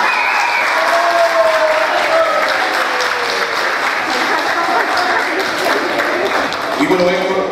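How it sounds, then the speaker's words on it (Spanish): Sustained applause from a crowd at a regional cultural presentation honoring a deputy mayor, dense, loud clapping that runs steadily throughout with voices mixed in. "Vamos a pedir un fuerte aplauso para el alcalde suplente, don Héctor Barriga, también."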